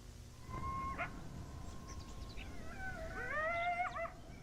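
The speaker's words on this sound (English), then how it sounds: "Coyote howls." Stock coyote howl sound effect: a lone wavering tone, then a chorus of rising, yipping howls layered over a steady low background hiss.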